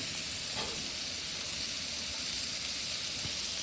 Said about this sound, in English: We're going to mop up some of that butter like that. Get a nice toast on these buns here.